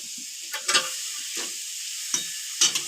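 Boiled banana flower fries in a pan for a banana-flower chop, with a quiet steady sizzle broken by a few sharp stirring scrapes and clatters spaced through the moment.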